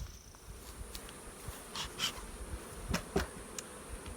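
Honeybees drone around a small queenless nuc colony hive, a faint continuous buzz broken by a few louder passes as individual bees fly close by.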